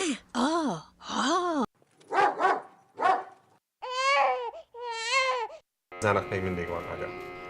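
A sequence of recorded human and dog sounds played through headphones during a brain scan: a crying infant, then a babbling or groaning human voice, then two drawn-out dog whines or howls, ending in a dense, harsh noise.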